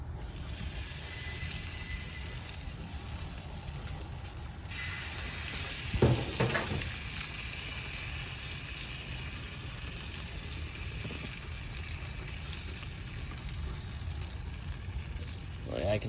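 Sauced hot dogs sizzling on a grill, a continuous close hiss and crackle holding steady throughout, with a couple of faint knocks along the way.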